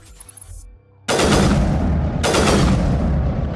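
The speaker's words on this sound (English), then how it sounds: "It's the highest accuracy I've ever seen in a sniper rifle." Two heavy sniper rifle shots from the Mass Effect video game ring out close and loud about a second apart, each a sharp blast with a long, rumbling tail that fills the pause before the next.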